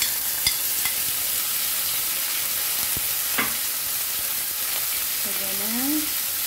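Meat is added to a hot pan and sizzles loudly and steadily while being sautéed for ginisang togue with oyster sauce, with a few utensil clinks and stirring sounds and a brief tone near the end.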